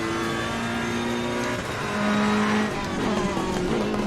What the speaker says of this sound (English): tyre losing traction sound a bit more now in my headphones